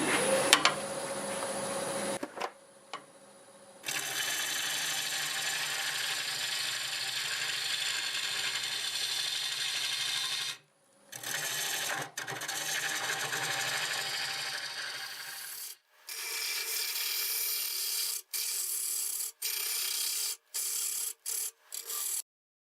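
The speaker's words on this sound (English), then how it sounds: "I have the lathe running in reverse." Wood lathe turning a cherry burl blank in reverse, with a steady broadband cutting and rubbing hiss that starts and stops in several bursts, loud and close, with no voices.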